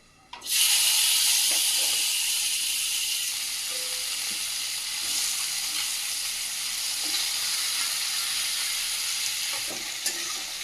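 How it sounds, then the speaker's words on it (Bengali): Bhola river fish dropped into hot oil, a sudden loud sizzle that bursts in and then holds as a strong, steady hiss with faint stirring clicks, close and alone. "এদিকে তেলটা গরম হয়ে গেছে মাছগুলো ভেজে নেবো"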